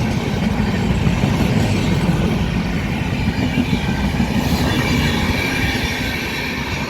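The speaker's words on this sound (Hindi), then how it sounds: "तो इस तरीके से पटना जम्मू तवी एक्सप्रेस जाते हुए" A Patna–Jammu Tawi Express passenger train running on a new rail line near Neora station in Bihar, a loud, steady rumble of wagons with squealing, clattering wheels as it passes close by.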